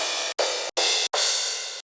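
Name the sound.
crash cymbal sample from Drum Hero 3 folder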